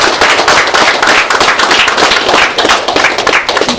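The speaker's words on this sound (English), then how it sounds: "Give a clap for him, please." An audience at a speech event in Bangalore claps loudly and continuously, a dense, close wash of hand claps.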